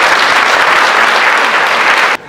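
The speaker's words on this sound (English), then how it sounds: "A round of applause once more for our" Loud, sustained applause from a large crowd at a school stage production, dense and steady, cutting off abruptly near the end.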